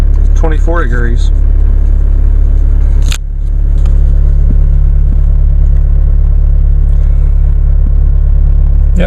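A 2016 Chevrolet Colorado with a Duramax diesel engine idles high, around 1,100 RPM, just after a cold start in 24-degree weather. The engine gives a loud, close, steady low rumble, briefly interrupted once.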